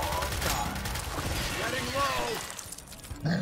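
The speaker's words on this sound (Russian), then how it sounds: "как пулемет стреляет, видели?" Machine gun fire in the turn-based shooter Gears Tactics comes as a burst of rapid shots with crashing impacts, loud and close, while someone talks over much of it.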